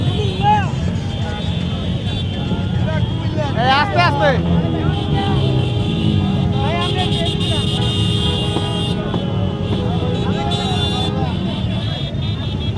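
Motorcycles of a large bike rally rumble along a road near Padua Bazar, Cumilla, a steady engine drone with passing revs and horn-like tones, while a voice calls out over the noise.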